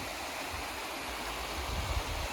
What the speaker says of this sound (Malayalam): ഇപ്പോൾ വെള്ളത്തിൻ്റെ ഒഴുക്കൊക്കെ തീർത്ത് കുറവാട്ടോ